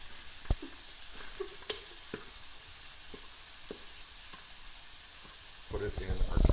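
Egg mixture cooks in butter in a cast iron pan with a soft, steady sizzle, scattered sharp pops and utensil taps, then a louder rush of noise at the very end.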